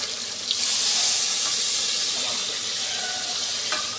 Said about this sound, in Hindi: डालिए पानी